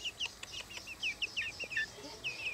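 A tame garden chicken makes soft, rapid clucks and chirpy murmurs close by, in a quick irregular series over faint outdoor background noise.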